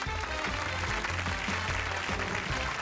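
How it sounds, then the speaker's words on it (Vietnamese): An audience at a Vietnamese TV talent show claps in a sustained, loud round of applause to welcome fifty audience judges, dense and continuous throughout with a low rumble beneath. "chúng ta sẽ cho một tràng pháo tay chào đón 50 vị giám khảo khán giả"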